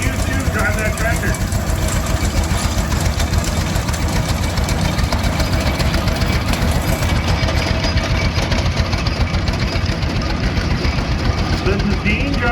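A 1020 Titan tractor pulling a Daisy Reaper idles loudly and steadily at a tractor parade, with a continuous rough, knocking engine rumble throughout.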